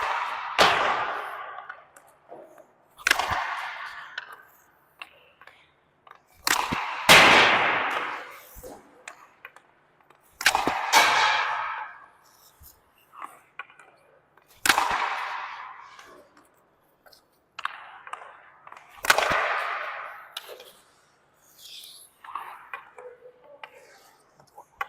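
Hockey shots on ice with a Trigger 7 Pro stick, sharp cracks of stick on puck repeating every few seconds in a large, echoing rink, each followed by scraping skates and rumble.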